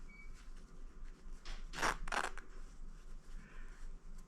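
Scissors snip through the fabric backing of a kitchen towel, two quick close cuts in the middle of an otherwise quiet stretch.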